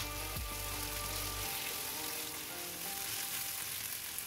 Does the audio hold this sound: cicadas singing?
no